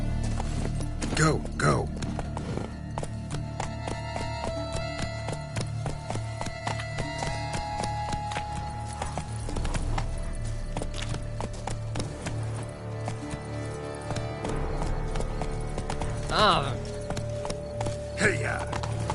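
A horse gallops in The Witcher 3 in Toussaint, with rapid, steady hoofbeats running throughout alongside game music and ambience, while someone speaks briefly over it.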